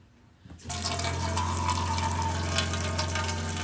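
Maple sap pumped from a 100-gallon tank through a trigger sprayer into a collection system, a steady close hiss and rush of liquid that starts abruptly after a brief quiet moment, with a constant low pump hum beneath.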